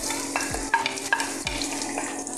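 Chopped onion sautés in a little oil in a kawali, a steady close sizzle with repeated scraping and stirring strokes of a spatula against the pan.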